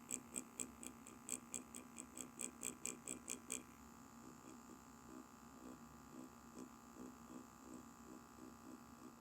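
A permanent makeup machine needles ombre brows into synthetic skin, its rapid steady electric buzz running throughout, with a bright regular ticking pulse over the first few seconds before it settles into a quieter continuous hum.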